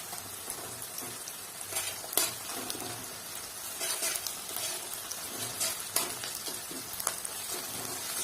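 Steady sizzling of garlic paste frying in a hot pan after onions, with scattered crackles and pops and occasional louder spits, close and continuous with no talking.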